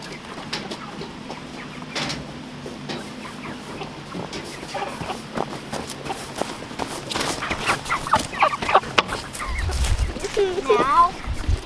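Meat chickens cluck and squawk as they are moved to a new chicken yard, with scattered calls and rustling under frequent talk from nearby people.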